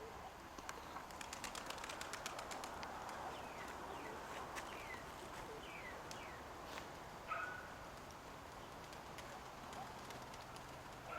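Outdoor birdsong with soft pigeon calls over a steady background hum, with a brief louder chirp partway through.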